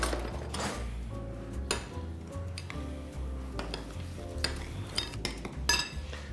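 Batter for a lemon roll being mixed after sweetener goes in: close, repeated clinks and scrapes of a utensil against a bowl at an uneven pace, over a low steady hum.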